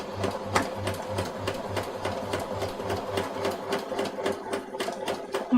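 A sewing machine stitches a waistcoat in a fast, even rhythm of close, moderately loud mechanical beats that runs without a break.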